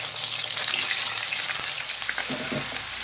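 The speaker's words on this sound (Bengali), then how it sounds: "চিকেন যেটা আমি ধুয়ে পরিষ্কার করে জল জড়িয়ে রেখেছি সেটা দিয়ে দিলাম" Washed, unmarinated chicken, about 500 grams, goes into hot oil in a pan over medium heat and fries with a steady, close sizzle and crackle, alone with no voices.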